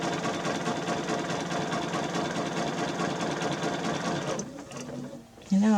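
Sewing machine running steadily while slowly echo quilting fabric, a loud continuous whirring hum for most of the time, then dropping off near the end as handling noises and a brief voice take over.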